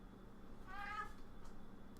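A house cat meows once, a short tonal call at moderate loudness, over a quiet room background with no talking.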